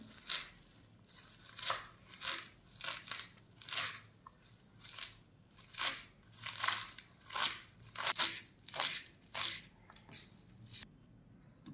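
Knife finely chopping fresh fenugreek (methi) leaves: a steady run of crisp, rhythmic crunchy cuts, about one or two per second, close and fairly quiet, with no talking.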